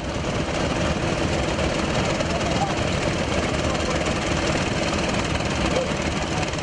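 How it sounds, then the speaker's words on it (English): A Chinese-made Chanfa engine drives a gold-dredging vessel on a river and pumps gravel up from the riverbed, giving a loud, constant, rough mechanical roar that fills the whole stretch without pause. "a Chinese-made engine, Chanfa, which powers the vessel to move and pump the gravels up from under the river"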